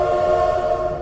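A locomotive whistle sounds as a steady sustained tone with strong harmonics over low rumbling rail noise, heard without voices throughout.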